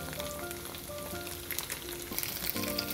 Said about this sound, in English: make sure you keep stirring so they do not stick or burn to the side of your pan